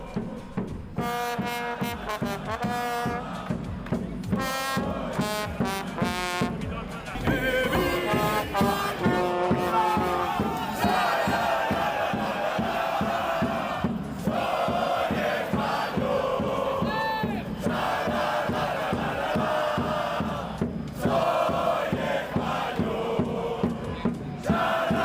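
Spanish football fans chant and cheer together in a loud crowd, sustained sung chants with horn-like tones rising over a constant roar.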